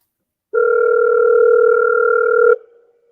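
A single steady electronic phone ringing tone sounds loud and close for about two seconds, then cuts off abruptly, with no talk over it.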